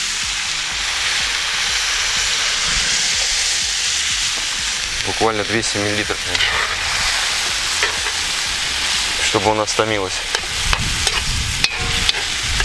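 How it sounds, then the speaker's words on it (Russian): Water poured into a cast-iron kazan of pork and tomato over a campfire hits the hot pan with a loud, steady sizzle and bubbling hiss throughout, while someone talks over it in brief bursts. "И водички добавим к нему."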